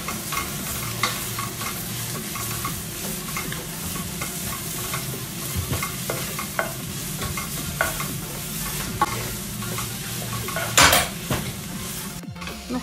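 A seafood pastilla filling of parsley, tomato paste and spices being stirred in a pan, with a continuous close sizzle and frequent spoon scrapes and clinks against the cookware, no talking.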